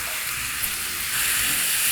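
Steady bright sizzling of chicken frying in butter in a pan, a dense continuous hiss that swells slightly louder toward the end, with no voices.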